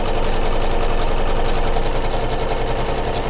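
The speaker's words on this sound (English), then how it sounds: "I'm actually stitching using the embroidery machine" An embroidery machine stitches quilt borders for a Kimberbell Sweet Land of Liberty pillow, making a close, steady mechanical whir with a fast rhythmic chatter that continues unbroken throughout.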